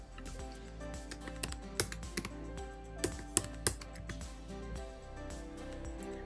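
Keys tapped on a computer keyboard while entering a password, a steady run of light, close clicks with a few sharper keystrokes, no voices.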